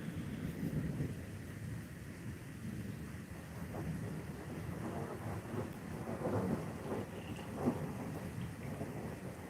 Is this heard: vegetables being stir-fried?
no